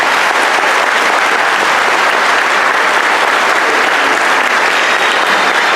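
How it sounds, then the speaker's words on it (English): An audience at a graduation ceremony for students of a Simon Youth Academy gives sustained, loud applause, a dense even wash of many hands clapping without pause. "Please, round of applause,"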